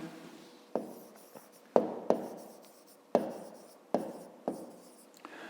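Pen or marker writing by hand during a fifth-grade maths exercise, a close series of sharp taps and short scratchy strokes in uneven rhythm, clear and alone with no talk.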